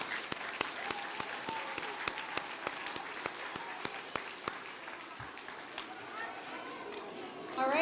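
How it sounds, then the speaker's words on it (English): An audience at an elementary school Blue Ribbon celebration applauds parents with sustained clapping for several seconds. A few sharp, louder claps stand out near the front, and a voice briefly rises above the crowd toward the end. "So let's give them a round of applause."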